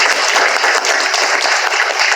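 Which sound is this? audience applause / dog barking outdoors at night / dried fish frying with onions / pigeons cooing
audience applause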